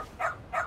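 A dog in the video game Lost Judgment gives two short, sharp yips a fraction of a second apart, fairly close and clear, with no talking over them.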